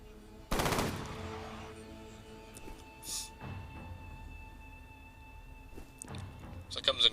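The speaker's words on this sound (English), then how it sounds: "The rifle in action." Rapid automatic rifle fire in the shooter game F.E.A.R., a loud burst early on followed by a few sparse shots over a quiet background hum.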